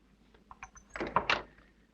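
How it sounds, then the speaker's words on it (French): A door is pushed shut in a 1959 television drama scene, a short dull thunk with a faint click following some soft rustling and footsteps, fairly quiet and close. "Fermez la porte."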